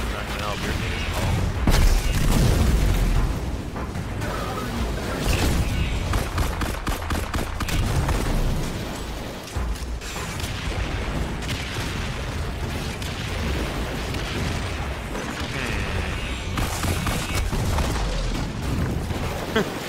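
Gunfire and blasts from a Destiny 2 multiplayer match, with dense rapid shots and booming impacts running continuously while a player talks over the top.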